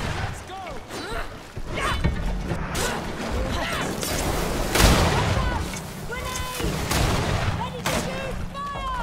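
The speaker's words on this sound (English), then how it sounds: "Watch out! Grenade!" A grenade blast and scattered gunfire during a GreedFall battle: sharp broadband bangs and crashes burst out repeatedly over several seconds amid clanking combat noise, with voices calling out between the hits.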